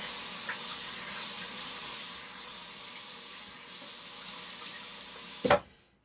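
Water runs from a tap into a sink as an arm is rinsed, a steady hissing flow that softens midway and cuts off abruptly with a short clunk near the end.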